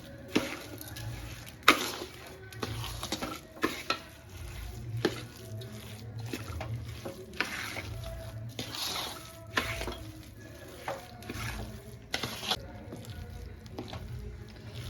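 Sugar is stirred into mawa in a pan while making Surat-style salampak, with repeated scraping strokes and sharp clinks of the spoon against the vessel over a low, steady cooking hiss.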